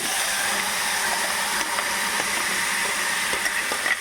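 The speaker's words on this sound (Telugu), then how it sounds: "తిరగమాతలో పసుపు వేసుకుంటే కొంచెం అట్లా వేయించి పచ్చడంతా దీంట్లో వేసుకుందాం" Turmeric tempering sizzling in a hot pan for cucumber chutney, a loud continuous hiss with a few faint clinks and crackles and no talking.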